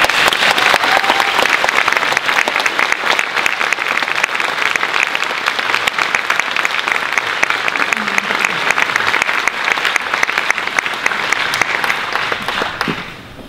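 Sustained applause from an audience at the Frankfurt Book Fair welcoming climate activist Luisa Neubauer, a dense, steady clapping that fills the hall for over twelve seconds before cutting off abruptly.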